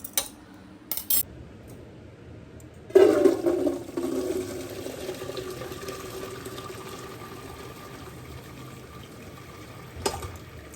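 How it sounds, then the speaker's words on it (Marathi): Water poured into a pressure cooker holding peanuts for roasting, a sudden near splash and steady pouring rush that starts after a few seconds and carries on as a lighter trickle, with faint clinks before it and no talk. "आता हे पाणी घालून घेऊया आपण"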